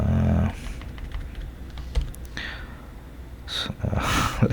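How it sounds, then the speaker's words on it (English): Typing on a computer keyboard, a brief loud burst at the start followed by scattered, lighter key taps and soft clicks, with faint breathing in between. "Let's just type it in."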